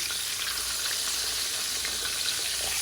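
Pork chops just flipped in a pan of hot oil, frying with a steady, close, crackling sizzle that never lets up.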